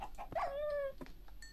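A Minecraft wolf whimpers as it is killed in a video game: a short yelp followed by a single high, drawn-out whine, close and clear, trailing off into faint game noise.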